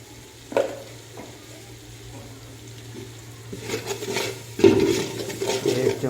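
Carrot vegetable curry cooking in a pan, with soft stirring and a low sizzle that steadily grows louder and busier toward the end, with no talking.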